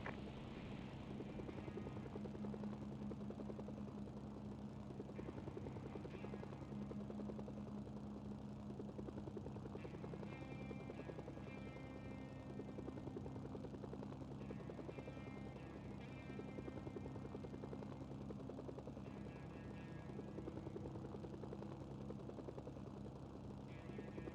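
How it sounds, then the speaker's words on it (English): Helicopter flying in the Mercenaries 2 video game on PS2, a steady low rotor and engine drone that continues throughout, with faint game sound effects over it. "You might be able to take a chopper from there and winch it."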